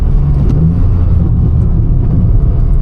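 Car engine revving hard in third gear, a steady loud low rumble holding for about three seconds with no clear rise or fall, close to the engine.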